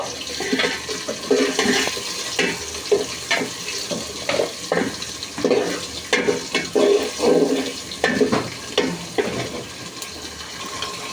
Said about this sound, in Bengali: গাইস, আমি কিন্তু নেড়ে নিচ্ছি, নয়তো কিন্তু লেগে যাওয়ার একটা সম্ভাবনা থাকতে পারে